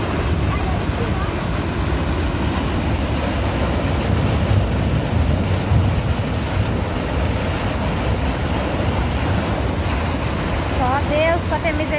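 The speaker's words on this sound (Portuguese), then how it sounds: "Olha, a manilha não tá suportando mais o tanto de água." Floodwater surges past an overwhelmed culvert pipe at a flooded rural property, a loud steady roar of rushing water with wind buffeting the microphone throughout.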